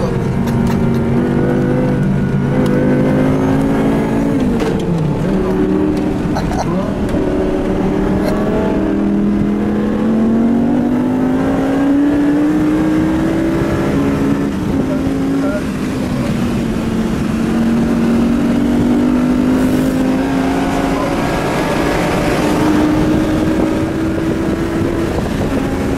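A 5.7-litre stroker S85 V10 in a naturally aspirated BMW M6 howls at full throttle, its pitch climbing steadily through the gears, loud and close over wind rush, with no voices.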